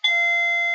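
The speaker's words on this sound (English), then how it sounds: "Pressing the actual physical doorbell button, it plays the two-tone tune" A physical doorbell button press sets off a two-tone ding-dong chime that rings out cleanly and sustains, alone and close.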